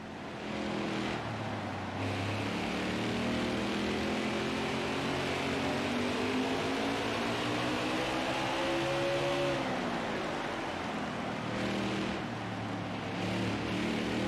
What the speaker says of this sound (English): listen to the game itself and get a feel for the sounds and things like that and the car sounds